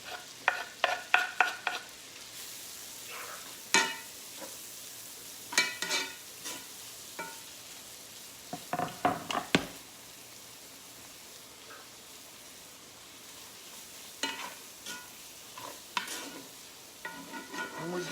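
Onions and other vegetables dropped into hot melted butter, frying with clattering stirring and scraping bursts over a steady low sizzle, loud and close, with no voices.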